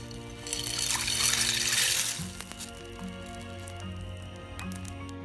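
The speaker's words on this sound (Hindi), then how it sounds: "ये देखिए, इसमें बबल्स बनने हैं, पानी में शुरू हो चुके हैं" A pot of water heats on a kitchen stove for spiral pasta, with a loud hissing, bubbling burst early on before a low, steady simmer.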